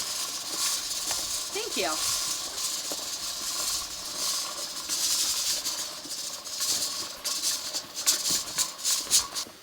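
A pressure canner kettle on a rocket stove, up to 15 pounds of pressure, hisses steam steadily and close by, with sputtering bursts near the end and a brief spoken voice.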